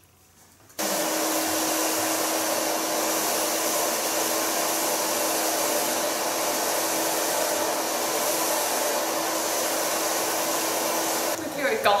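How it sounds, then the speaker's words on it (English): A hair dryer blows steadily on a woman's platinum pixie bob as it is styled with a large brush, switching on abruptly and holding a loud, even whoosh for about ten seconds before cutting off. "I'm going to blow dry the hair"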